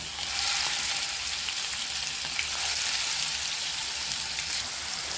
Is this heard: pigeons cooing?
no